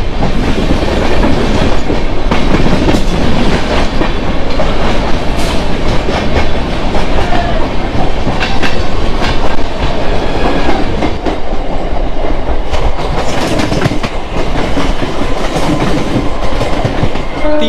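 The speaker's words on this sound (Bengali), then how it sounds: "Up Howrah Tarakeshwar local is arriving on" A Howrah–Tarakeswar local train rolls in loudly and close, a dense continuous roar of wheels and carriages with rhythmic clatter over the rails throughout.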